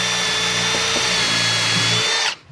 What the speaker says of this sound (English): blunt drill bit, high speed, low pressure